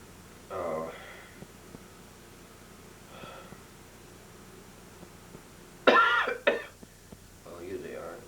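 A man coughs and clears his throat in a quiet room, a few short, dry bursts spread across several seconds with a louder harsh cough cluster near the end.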